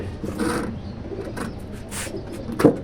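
Pigeons coo in low, soft, close murmurs at the Jinjira market, with a faint rustle and a brief knock near the end and no talking.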